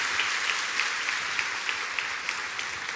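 A church congregation applauds, with loud, sustained clapping running throughout and a faint regular pulse of rhythmic claps about three per second beneath the wash of hands.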